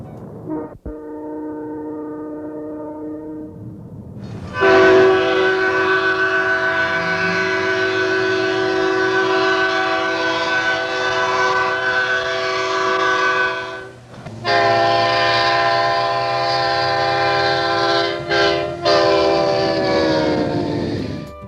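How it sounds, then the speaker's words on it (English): Leslie SL4T air horn on an EMD SDP40F diesel locomotive, sounding a short chord, then two long, loud, sustained blasts with a brief break between and a few quick drops near the end. "Lastly, the units came equipped with a Leslie SL4T air horn."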